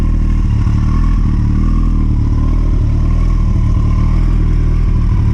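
A Kawasaki Ninja 1000 motorcycle engine idles loud and close, its steady low rumble and mechanical clatter holding even for about five seconds with no voices.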